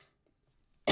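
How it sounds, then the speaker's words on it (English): A single sharp, loud cough from someone recovering from an upper respiratory infection, bursting out abruptly at the very end after near silence. "I cough into the video, I apologize."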